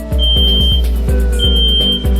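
A microbiological safety cabinet sounds its alarm for a blocked air grill, loud and close, with a sustained high electronic tone and a run of rapid pulsing beeps over a steady low hum.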